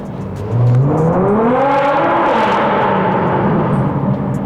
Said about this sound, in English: As you can hear that under the tunnel, this exhaust system just sounds amazing